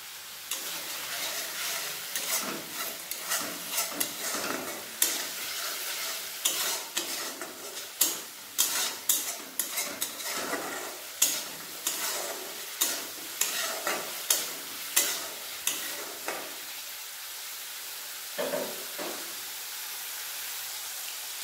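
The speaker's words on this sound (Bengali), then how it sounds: "মশলা ভালোভাবে কষিয়ে নেব।" A spice paste seasoned with a little salt is sautéed in a pan for a vegetarian ridge gourd dish, with rhythmic spatula scrapes and stirring strokes over a constant loud sizzle, no voices.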